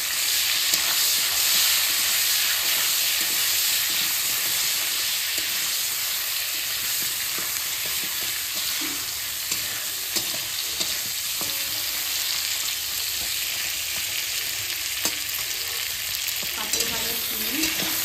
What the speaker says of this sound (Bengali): পাঁপড় ভাজা সিম করে সিমগুলো ভেজে নিচ্ছি